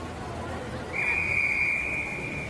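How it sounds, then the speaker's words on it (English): A referee's whistle at a girls' under-13 sports match, one long steady shrill blast of about a second and a half, clear and fairly close over outdoor background noise. "As whistle sounds."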